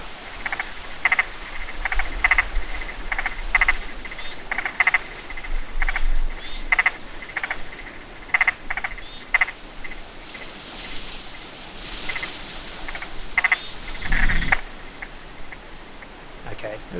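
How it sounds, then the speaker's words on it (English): Frog croaks played back with an echo effect inside a game engine sound setup: short repeated croaking pulses in an irregular rhythm, fairly quiet and reverberant over a low background hiss. "let's push play, and we should have echo on our frogs"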